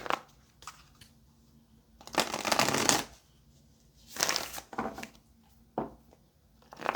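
A tarot card deck being shuffled in bursts, with riffling flurries around two and four seconds and quieter card taps and handling in between, close and alone.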